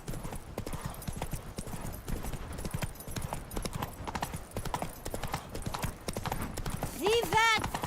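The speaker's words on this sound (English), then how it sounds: "騎馬都好快到啫" A horse gallops in The Witcher 3 video game, its rhythmic hoofbeats clopping steadily and close. A short whinny comes near the end, and a voice talks over the hooves.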